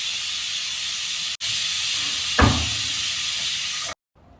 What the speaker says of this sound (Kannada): ಇವಾಗ ಕಾಳು ಬೇಯಕ್ಕಿಟ್ಟಿದ್ನಲ್ಲ, ಅದು 2 ವಿಷಿಲ್ ಬಂತು.